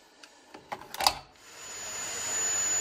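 A few clicks and knocks give way to a vacuum cleaner starting up and running with a rising, steady whine and airy roar.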